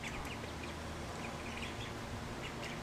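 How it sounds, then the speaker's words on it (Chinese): Several young Siberian wild ducks give faint, scattered quacks and peeps over a steady background hiss, at a little distance. "这三只小鸳鸭呢"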